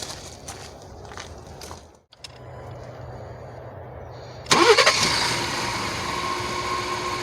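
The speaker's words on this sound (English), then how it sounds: "fire it up, make sure she runs good." A 2018 Ford F150 with the 3.5L EcoBoost V6, freshly fitted with new spark plugs, cranks and fires up after some shuffling, then settles into a steady, fairly quiet idle nearby.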